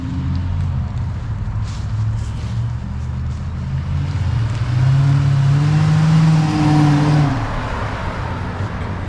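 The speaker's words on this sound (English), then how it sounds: "I'm gonna let it warm up and give it a few revs." A 2006 Dodge Magnum with Magnaflow mufflers idles with a low exhaust rumble, then revs up in a rising, held swell before settling back to idle, heard close and loud without talk.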